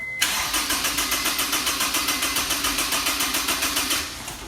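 A Honda S2000 engine cranks over steadily on its starter without catching, a fast even chugging rhythm repeated about a dozen times per second, loud and close throughout with no voices.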